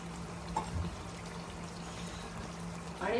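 Water is poured into chicken gravy for lasooni methi chicken, a soft continuous pour and trickle heard close and quiet, with a brief clink near the start and a louder splash at the end.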